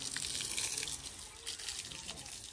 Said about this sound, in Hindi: और अभी ईंटों को पानी लगा रहे हैं